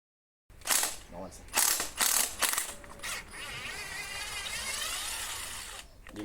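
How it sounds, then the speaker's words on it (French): Impact wrench on an Audi A3, several loud, close bursts of hammering rattle followed by a sustained whirring run. "vaut mieux aller avec la clé à choc"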